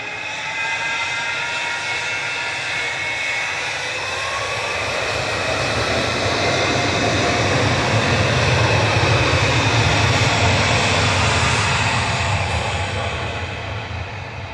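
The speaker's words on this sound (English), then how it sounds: "Gulf Air Flight 4 to Bahrain. Turn and burn. 787-9" A Gulf Air Boeing 787-9 bound for Bahrain departs Manchester Airport, its jet engines giving a loud, sustained roar that swells over several seconds and then holds steady, with no voices over it.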